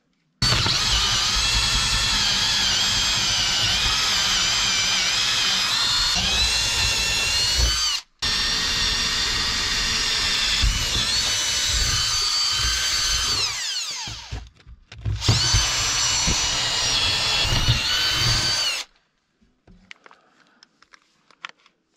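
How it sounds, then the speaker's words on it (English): A power drill runs loud and close for long stretches, cutting out briefly twice and then stopping near the end, with its whining motor changing pitch under load. "Siin oli trelli jälle käes."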